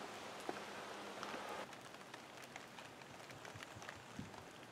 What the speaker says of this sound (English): it just started raining. Just started raining again.